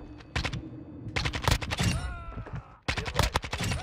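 Kastov-74U (AK74U) rifle fire in Modern Warfare 2, sharp close bursts of rapid shots in several clusters separated by brief pauses, loud and dry.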